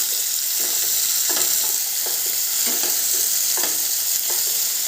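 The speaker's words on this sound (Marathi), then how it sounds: "दोन टोमॅटो घेतले एक मिरची आणि दोन कांदे जाडसर कापून घेतले ते आपल्याला त्याच तेलामध्ये फ्राय करायचे" Tomatoes, a chili and thick-cut onions fry in oil, giving a steady, loud sizzle with soft, regular stirring scrapes every half second or so throughout.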